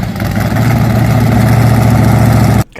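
Dodge Charger concept car V8 engine running loud and close, a deep steady throbbing rumble that holds for a few seconds before cutting off abruptly.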